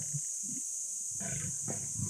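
Lions roaring on safari, with buffalo nearby: low, rumbling calls come in a few separate bursts over a steady high background hiss, moderately distant.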